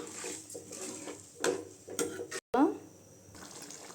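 A spoon stirring garlic kulambu in a cooking pot, with soft scraping and clinks against the metal in a few short bursts, close and fairly quiet, and one sharper knock near the middle.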